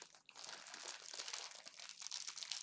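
A snack package ripped open by hand, a close, continuous crinkling and tearing of plastic wrapper lasting a few seconds with no talk.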